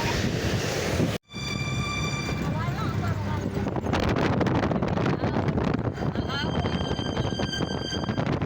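Sea surf at Bhakodar rolling in as a steady broad wash, mixed with heavy wind buffeting on the microphone and a brief dropout near the start; no voices stand out.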